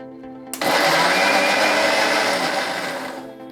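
A blender whirs as it mixes sugar and milk for a strawberry milkshake, starting abruptly after a short pause and then running loud and steady, easing off slightly near the end.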